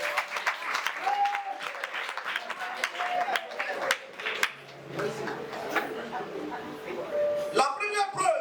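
Congregation applauding during a French-language church sermon, a dense wash of clapping lasting several seconds with voices and crowd noise mixed in, moderately loud and fairly close.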